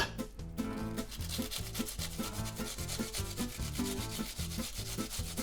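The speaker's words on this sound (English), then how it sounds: "This first half is going to get grated." Half an onion is rubbed against a grater in fast, rhythmic rasping strokes, loud and close, continuing without a break and with no talking.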